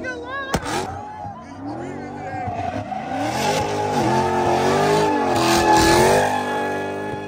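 A drifting car's engine revs hard while tires squeal in long, wavering screeches, close and loud, with people talking excitedly over it.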